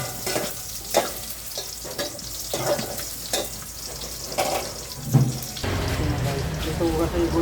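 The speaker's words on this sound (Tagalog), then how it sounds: "So guys, bisa na tayo bawang. Pag mainit na mantika, ang bango talaga." Garlic frying in hot cooking oil in a home kitchen pan, a steady sizzle under scattered stirring clatter, growing louder and denser toward the end, with no talk.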